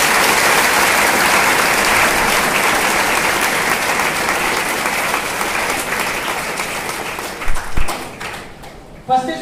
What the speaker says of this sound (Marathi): टाळ्या फक्त तुमच्या आई वडिलांसाठी वाजवायचे